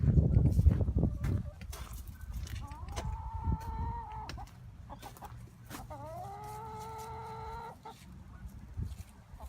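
Backyard chickens clucking and calling in a windy yard, a few drawn-out squawking calls and softer clucks after some rustling and bumps near the start, fairly close.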